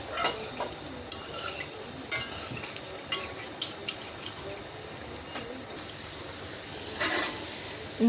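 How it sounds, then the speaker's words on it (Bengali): Snack batter made from egg and flour deep-fries in hot oil with a continuous soft sizzle, broken by occasional clinks and stirring taps, fairly quiet and close. "এটা কিন্তু সম্পূর্ণটা ডুবো তেলেই ভাজতে হবে।"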